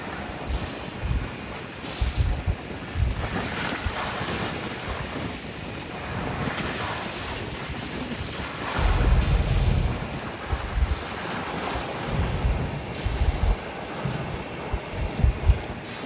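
Sailboat under way on the open Mediterranean at sunrise, with steady wind buffeting and rushing, waves slapping and washing against the hull in irregular surges, and no voices.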